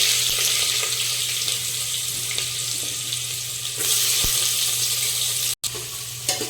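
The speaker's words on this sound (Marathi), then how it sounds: "आता सगळ्यात अगोदर आपल्याला कांदा घालून घ्यायचा आहे।" Chopped onion frying in a pan for a Maharashtrian green moong curry, a steady close sizzle running throughout with a brief clatter near the end and no talking.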